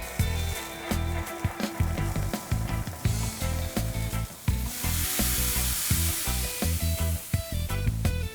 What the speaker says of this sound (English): we're gonna put our snapper on the grill, which I have preheated to 400 degrees